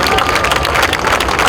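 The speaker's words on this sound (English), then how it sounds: "Ladies and gentlemen, we cannot stop the applause." A crowd at the Kala Ghoda Arts Festival inauguration in Mumbai applauds loudly, with sustained dense clapping and a few cheers that hold steady throughout.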